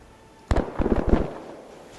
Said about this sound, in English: That's the Varsik also firing